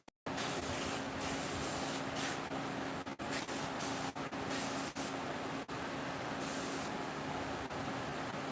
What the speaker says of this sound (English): you guys can see now that this airbrush got to be working pretty good